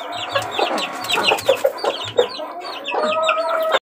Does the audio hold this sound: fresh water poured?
no